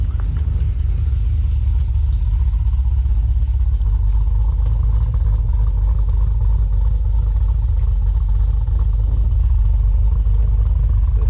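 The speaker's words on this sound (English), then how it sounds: "it's got a little bit of a hit to it, a little bit of a cam sound" A Pontiac G8 V8 with an aftermarket cam and Max Flow mufflers runs loud and close, its deep, lopey rumble holding steady with slight rises and falls throughout, with no talking over it.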